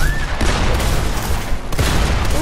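Rapid gunfire in the video game Fortnite, a loud burst of overlapping shots with a few sharper cracks standing out, alone without talk.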